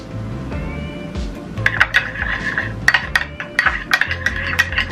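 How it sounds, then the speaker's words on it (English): A spoon stirs Greek yogurt and red wine together in a small bowl for a face mask, with a series of bright clinks and scrapes against the dish, close and fairly loud over a faint low background. "Now mix it all together"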